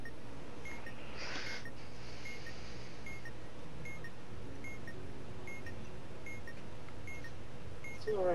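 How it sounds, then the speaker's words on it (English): In the Keep Talking and Nobody Explodes video game, a bomb timer ticks as faint, evenly spaced electronic beeps repeating steadily over a low background hum. "That's the sound of a bomb ticking."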